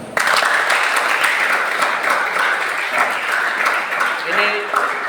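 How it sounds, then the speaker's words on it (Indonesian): Applause fills a Christmas service of a church youth fellowship (PAM Klasis GKI Keerom), steady and fairly close from start to end, with a voice briefly audible near the close. "tepuk tangan"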